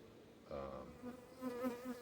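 Honeybees buzzing near a hive showing early pre-swarm activity, a faint droning hum that swells in short bursts as individual bees fly close by, with no talking.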